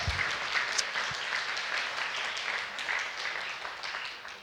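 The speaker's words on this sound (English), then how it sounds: "maybe we could give a round of applause to Ollie as he comes in" Audience at a talk applauding as a guest comes in, a steady, moderately loud roll of clapping from a crowd, sustained without pause for a few seconds.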